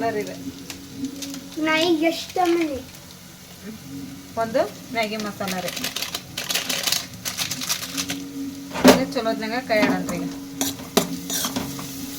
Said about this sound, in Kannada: ಎಣ್ಣೆ ಒಳಗೆ ಸ್ವಲ್ಪ ಕೈಯಾಡಿ